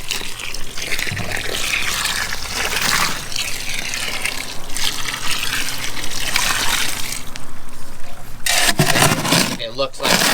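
Water is poured from a gallon container into a concrete mix, making a continuous splashing, gushing pour that swells and fades. It is loud and close, with a person talking over it.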